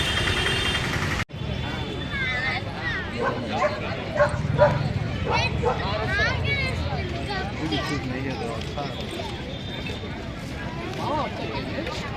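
Dogs bark and yip at a kennel dog show, scattered barks and whimpers rising and falling across the span beneath a voice speaking throughout.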